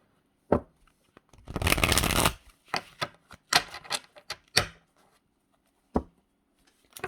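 Several bursts of riffling card shuffles, one long dense flutter in the middle and shorter snaps around it, close and crisp with quiet gaps between.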